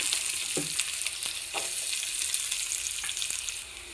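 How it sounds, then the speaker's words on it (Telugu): Onions and fenugreek seeds frying in hot oil give a steady, loud sizzle throughout, broken by a few soft clinks of stirring. "ఇప్పుడు ఉల్లిపాయలు కూడా వేసేస్తున్నాను."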